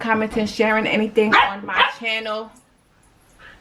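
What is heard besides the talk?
dog barking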